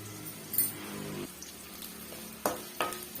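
Onion and garlic sautéing in a pan for a ragi kali dish, a soft sizzle with occasional stirring scrapes and a few sharp clinks of a utensil against the pan, no talking.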